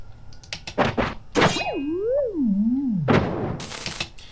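A cartoonish video game sound of a character falling: quick hits, then a warbling, pitch-bending whoop sliding downward, ending in a thud and a burst of noisy crunch like an explosion.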